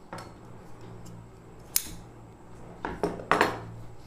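Lining fabric for a lehenga blouse being cut, heard as a few sharp, separate snipping clicks spread over a few seconds against a quiet room, with no talking.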